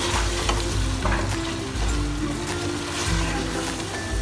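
Chopped green chillies sizzle in a pan of chicken malai curry, a steady dense frying hiss with faint scraping, continuous and close throughout.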